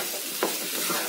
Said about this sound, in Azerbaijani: toyuğumuzla soğanımızı yaxşıca qarışdırırıq və qızardırıq